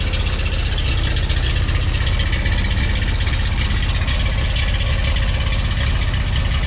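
A bus engine with high, never-lowered compression idles steadily and loudly, close up, with a low rhythmic thump running through the rumble and no voices over it.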